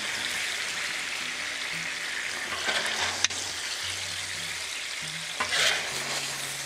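Beef and broccoli in a cornstarch-thickened gravy bubble and sizzle steadily on a Blackstone griddle, close and continuous, broken by a few spatula scrapes and one sharp click, with no talking.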